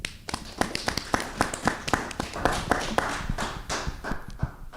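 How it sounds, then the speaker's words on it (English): An audience at a nation-building launch event applauds a speaker with warm, scattered clapping, distinct individual claps close by over a softer spread of hands. "So please give him a warm round of applause."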